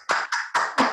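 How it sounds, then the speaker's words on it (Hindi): A group of people stand up and clap in unison during an indoor training session: four loud, evenly spaced claps in quick succession, close by, with no talking. "एक बार ताली बजाएंगे खड़े होके।"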